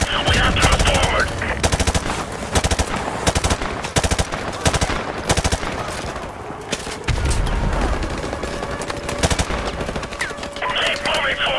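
Machine-gun fire and gunshots in the war video game Call of Duty Modern Warfare Remastered, loud sustained rapid bursts running nearly continuously, with shouted voices mixed in.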